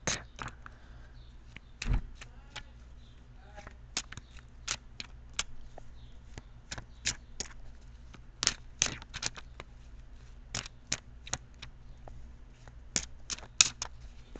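A tarot card deck cut and shuffled by hand, giving a long run of sharp, irregular card snaps and riffles, close and fairly loud against a quiet room hum.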